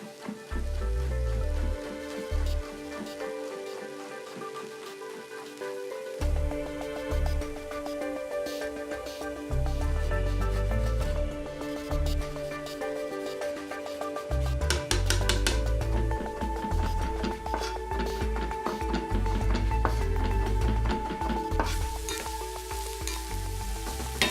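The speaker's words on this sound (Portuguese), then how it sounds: "Vamos começar por fritar a berinjela no óleo." Eggplant fries in vegetable oil in a pan with a steady, loud sizzle, close up, with occasional stirring and scraping sounds and no talking.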